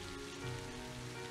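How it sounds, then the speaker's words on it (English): Rain falls steadily in the video game Trails of Cold Steel, an even hiss of drops under sustained background music tones. "And it's raining."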